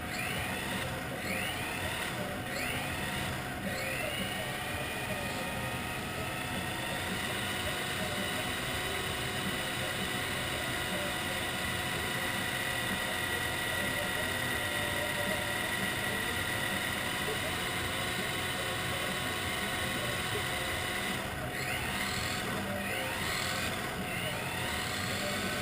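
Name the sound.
Kyosho RB6 RC car running at quarter throttle, breaking in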